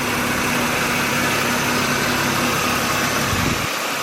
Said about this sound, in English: now I'm just letting the engine idle a little bit, let it warm up